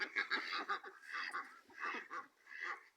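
Several ducks quack and honk in a busy, overlapping chorus as they are let out, close by and fairly soft, with short rhythmic calls tumbling over one another.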